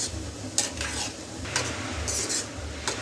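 Gulab jamun fry in oil in a pan on a slow flame, a continuous soft sizzle broken by several scraping stirs of a utensil against the pan, close and fairly loud.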